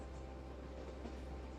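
Rolling train on The Ghan through the Australian outback, a steady low rumble with a soft broadband hiss, continuous and even at moderate level with no clear clacks standing out.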